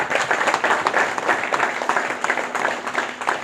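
Audience applause at a ceremony opening a new PCC road, a dense crowd of steady clapping running continuously at moderate loudness for the whole stretch, with no clear voices above it.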